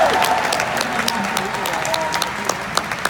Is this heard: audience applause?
yes